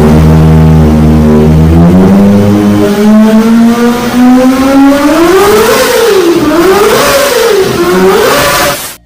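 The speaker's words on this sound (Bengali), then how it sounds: "এই বাইকটির সাউন্ড অনেকটা সুপার বাইকের মতোই" Kawasaki Ninja ZX25R four-cylinder motorcycle engine revving loudly up from idle, its pitch climbing steadily and then swinging up and down through several quick throttle blips before cutting off, with no talk over it.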